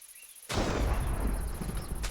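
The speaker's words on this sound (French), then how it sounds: "ça c'est le bruit d'un chat qui vient de se faire frapper par la foudre" In the video game From the Fog 2, a sudden loud crackling burst marks a cat being struck by lightning, starting sharply after a quiet moment and rumbling on with noisy crackle.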